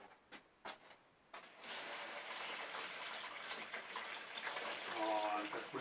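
Hot water running from a kitchen tap: a few faint clicks, then a steady, soft gush of flowing water continuing to the end.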